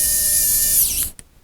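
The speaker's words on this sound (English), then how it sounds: "we're gonna put the screws back on" An electric screwdriver drives screws back into the cover of a Dell Inspiron 13-inch 5000 series laptop, a loud close motor whir that winds down and stops, followed by a faint click.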